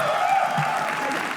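Audience applause at a comedy roast show: a short, moderate burst of clapping from a crowd, steady across about a second and a half, with some voice mixed underneath.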